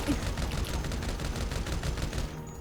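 Rapid, continuous gunfire from a firefight in the video game GTA 5, a dense steady crackle of shots with no pauses, heard at moderate level throughout.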